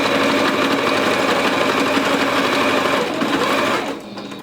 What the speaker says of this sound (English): my sewing machine seems to be able to handle these towel scrunchies just fine